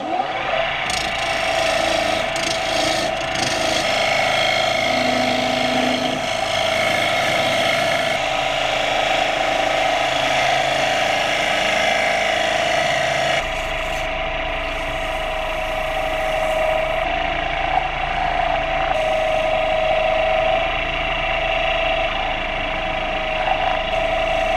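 Wood lathe spinning an elm bowl while the tenon is turned off, a steady loud mechanical whir with a constant tone and scraping tool chatter throughout, no talking.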